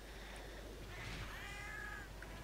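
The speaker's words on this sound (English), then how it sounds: "Okay, that's a white cat." A white cat in the PSP game Monster Hunter Portable 3rd gives a single faint meow midway, heard over a low background hum.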